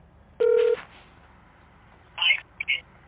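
Phone keypad tones ring out while calling a scammer back: one longer steady tone first, then after a pause a quick cluster of short dialing beeps, all loud and close over a quiet line.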